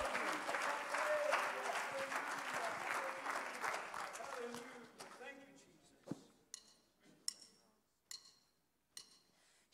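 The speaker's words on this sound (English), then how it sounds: "Let's give him a hand clap of praise." Congregation in a church service claps hands in praise, dense and sustained with voices and cheers mixed in for about five seconds, then thinning to scattered louder claps as it winds down.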